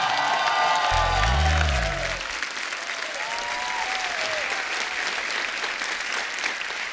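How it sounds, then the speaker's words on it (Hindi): A studio audience at a comedy talk show breaks into dense, sustained applause, loud and close at first, then settling to a steady wash of clapping while music briefly rises over it. "जोरदार तालियों से स्वागत होना चाहिए।"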